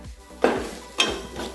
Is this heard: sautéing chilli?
yes